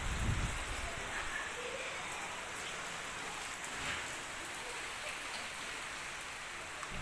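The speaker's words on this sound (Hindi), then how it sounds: "बारिश हो रही सारा दिन आज सुबह से।" Steady rain falling, a constant broadband hiss of drops on surfaces, close and moderately loud throughout with no talking.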